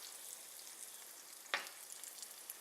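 Zucchini slices frying in hot grease in a home kitchen, a faint steady sizzle with one brief sharper crackle as a piece goes in.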